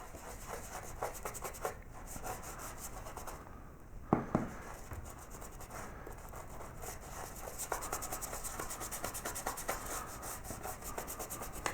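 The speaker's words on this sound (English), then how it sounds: "Put some wax in among the stippling." Wax being rubbed into the stippled texture of a carved wooden child's bedroom sign, a steady soft scrubbing with repeated short strokes and a brief louder knock partway through, no talking.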